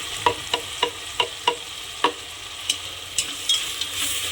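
Ginger, chili and garlic sizzle in hot oil for a khichdi tempering as a utensil taps and stirs the pan in a series of sharp, evenly spaced knocks, close by, without speech.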